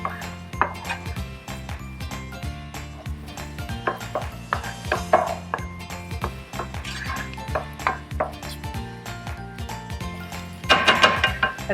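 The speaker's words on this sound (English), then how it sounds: "Give them a good stir, and I'm going to saute this for another minute." Garlic and vegetables being stirred and sautéed in a pan for Filipino chicken embutido, with steady utensil clatter and scraping against the pan over a faint background hum, growing busier near the end.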